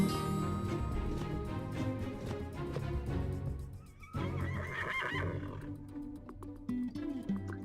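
Horse whinnying in the Alexandra Ledermann riding game, with loud, shrill neighs over a busy game backdrop of music-like tones and hoof sounds, several calls across the stretch and no speech.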